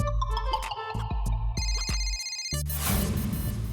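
A telephone rings with a bright electronic ringtone melody, playing its tune loudly before breaking into a noisier burst of sound.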